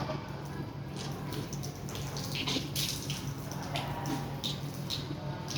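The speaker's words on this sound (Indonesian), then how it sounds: "Sedikit sisa air di sini itu nanti kamu masukkan ke hidung, kamu sedot ya, kamu keluarkan lagi" Water runs steadily from a tap during wudu ablution, a continuous close splashing stream with a few faint drips and little else over it.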